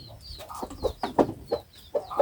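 Chickens cluck at close range, a series of short, uneven squawks and clucks from a few birds over about two seconds, with no talking.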